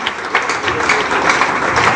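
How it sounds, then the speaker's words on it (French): Audience applause at a college event fills two seconds with dense, steady clapping that stays loud throughout. "On applaudit pour notre camarade ici."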